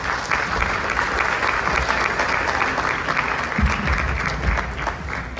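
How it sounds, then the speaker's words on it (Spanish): Audience applause breaks out after a participant's answer at a sensory exercise session, a steady dense wash of many hands clapping that holds at an even loudness throughout, with no talk over it. "Un aplauso, por favor."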